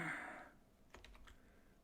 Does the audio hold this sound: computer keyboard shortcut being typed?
yes